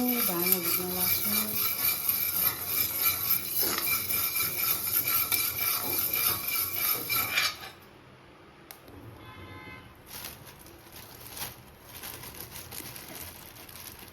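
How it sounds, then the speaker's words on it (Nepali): Hemp seeds dry-roast in a pan for katahar pickle, giving a busy scraping, rasping patter of stirring and shifting seeds that runs steadily, then abruptly drops to a quieter scene with faint scattered clinks and rustles. "भाँगो भुट्न लाग्छु।"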